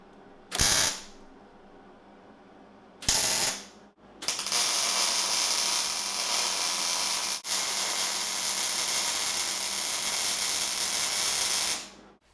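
Hobart Handler 140 MIG welder at factory settings welding 1/8 inch steel: two short bursts of crackling hiss, then a long, steady, loud sizzling bead lasting about eight seconds, close and alone.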